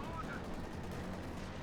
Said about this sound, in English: Panther then bazooka fire here.